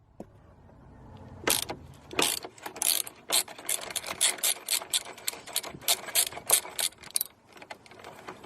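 A ratchet fitted with a 12mm socket loosens the terminal nut on the 12-volt battery of a 2016 Kia Soul EV, a sharp rapid clicking in repeated short strokes, close and clear, with light metallic handling noise between them.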